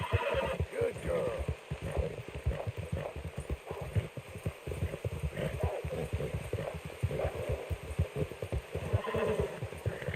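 A horse in a video game neighs and whinnies while its hooves clip-clop steadily close by, with someone talking over much of it.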